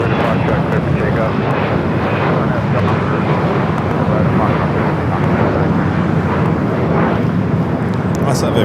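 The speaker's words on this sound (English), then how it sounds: "Corporate jet now taking off." A corporate jet takes off at Los Angeles airport with a loud, sustained broadband engine roar that holds steady throughout, with no talk over it.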